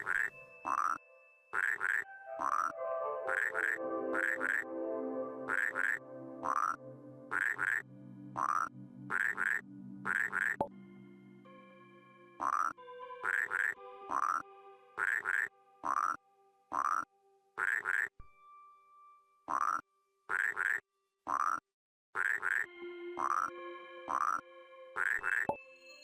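Rhythmic frog croaks in the puzzle game Rusty Lake Paradise, a long sequence of short pitched croaks in steady beats, with tonal game music sustaining beneath some passages.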